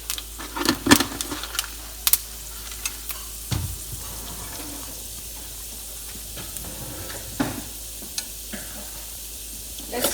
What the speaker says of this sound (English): Let's fry until it's golden.